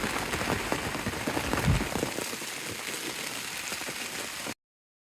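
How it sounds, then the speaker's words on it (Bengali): Rain falls with gusty wind over an open rural field, a close, steady patter of drops with soft rustling surges from the gusts, holding fairly even for several seconds before it cuts off abruptly. "ঘুরতে এসে আবারও শুরু হয়ে যায় বৃষ্টি।"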